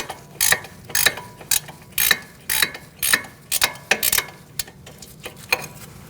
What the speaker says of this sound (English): You can switch to a ratchet wrench at this point.